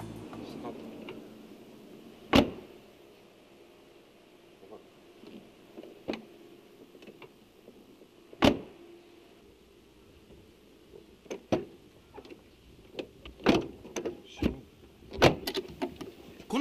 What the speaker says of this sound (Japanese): ドアを開ける時の音に注目。